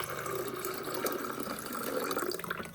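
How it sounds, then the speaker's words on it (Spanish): Water is poured into the water tank of a Wūrden automatic coffee maker, a soft, steady trickle and splash that runs continuously for a few seconds before tapering off. "puedo echar el agua acá y de aquí lo paso aquí, que se me hace mucho más fácil."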